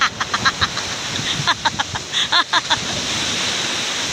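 Strong sea waves surge and crash onto the shore on a morning beach, a broad continuous wash with a few sharper bursts, while a voice speaks briefly over the surf.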